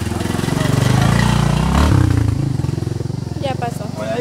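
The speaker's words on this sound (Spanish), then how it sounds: "Ah, va a pasar la moto ahí." A motorcycle engine rumbles close by as it passes along a street, swelling and then fading over a few seconds, with people talking over it.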